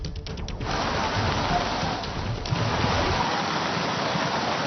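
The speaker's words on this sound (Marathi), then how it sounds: "सकाळपासून शहरासह जिल्ह्यामध्ये अनेक ठिकाणी मुसळधार पाऊस पडतोय" Heavy monsoon rain pours steadily beside the swollen Godavari river at Ramkund in Nashik, a dense, continuous roar of falling water and rushing flow with no pauses.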